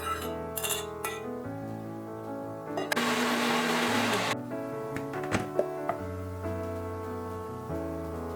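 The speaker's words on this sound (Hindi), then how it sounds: "इसको अच्छी तरह से मिक्स करने के लिए हम लोग इसे मिक्सर में भी थोड़ा सा बारीक कर लेंगे" A mixer grinder whirs loudly in a short burst while grinding a paste for a date-based Ayurvedic drink, with clinks and rattles of the jar before and after.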